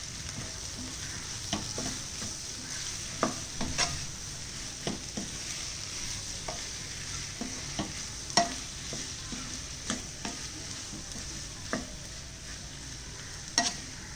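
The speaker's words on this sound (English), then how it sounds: "Let us put the tomatoes. Give it a good mix." Tomatoes stirred into a frying onion and potato gravy give a soft, constant sizzle, broken by sharp spoon scrapes and clinks against the pan at irregular intervals, close but fairly quiet, with no voices.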